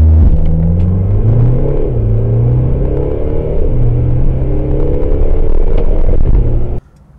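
A 2019 Mercedes-Benz GLC facelift SUV weighing about 1.8 tons accelerates hard, its engine note climbing loud and near through several gear changes before cutting off abruptly at the end.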